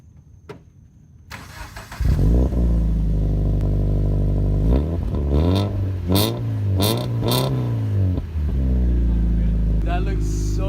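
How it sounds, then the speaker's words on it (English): A 2013 Scion FR-S sports car fires up after a short lull, its exhaust rising in a series of sharp revs that swell and fall over a steady loud idle, with voices faintly underneath. "Give me an exhaust clip, bro."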